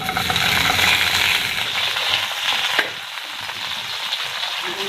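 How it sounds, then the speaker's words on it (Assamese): Brinjal pieces fry in hot oil for a homemade pickle, a loud, continuous sizzle with scraping stir sounds, easing to a quieter crackle after a brief clatter partway through. "এতিয়া বেঙেনাখিনি মানে আমি ভিনেগাৰ বা বেলেগ কৰি তেলত দি দিম আৰু 5 মিনিটৰ কাৰণে ভালদৰে ভাজি লম"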